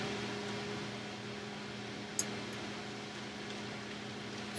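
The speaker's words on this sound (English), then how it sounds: "I'm turning on the fan" A kitchen range fan runs while steak cooks, giving a steady even whir with a low mechanical hum and a faint tick partway through, no voices.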